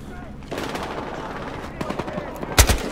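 Gunfire in Battlefield Hardline, including a pump-action shotgun: a rapid rattle of shots under a voice, ending in one loud, close blast near the end.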